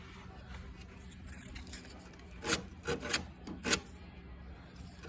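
Plumber's sanding tape rasps along the edges of a car panel in four quick, distinct swipes in the second half, faint against a quiet background.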